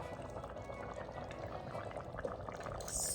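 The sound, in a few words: pouring cream into a pot of orzo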